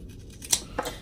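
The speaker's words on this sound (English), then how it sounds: "I'm just going to take some scissors and I'm just going to cut along this curve" Two quick snips of scissors cutting through fabric along a curve of a stuffed gnome toy, close and crisp, with a short pause between them.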